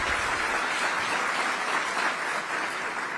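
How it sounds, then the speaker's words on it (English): Audience applause at an ICT summit conference, a dense steady wash of clapping from a crowd with no speech over it. "Can we give him a round of applause?"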